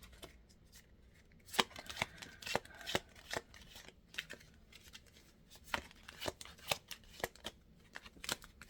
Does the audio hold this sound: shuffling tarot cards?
yes